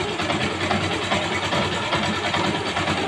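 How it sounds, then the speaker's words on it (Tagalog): A motorcycle engine with an internal fault runs steadily with a rhythmic, wavering scraping drone that pulses through the whole stretch. "pag ganire ang tunog ng inyong motor, parang may umaalun-alun ba?"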